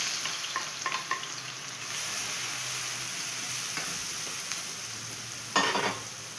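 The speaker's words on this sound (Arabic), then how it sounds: "هننزل كده بالبصلايه" Onion sizzles steadily in a pan of oil and butter while being cooked for cabbage mahshi. A few stirring scrapes and clinks rise above the soft crackle, with a louder burst near the end.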